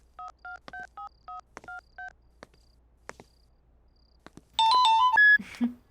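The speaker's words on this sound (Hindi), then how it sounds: "फोन करता हूँ" A telephone keypad dials a quick series of evenly spaced touch tones, then a short ringtone-like chime bursts out loudly near the end, alone in a quiet room.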